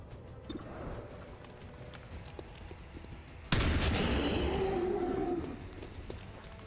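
A single loud shotgun blast in XCOM 2 cuts in sharply over a low rumbling game ambience, its broadband burst trailing into a short decaying ring with whooshing tail.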